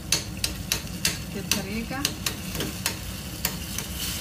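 Chicken biryani frying and stirred in a pot, a steady sizzle under repeated sharp scrapes and knocks of a spoon against the pot, with a brief voice.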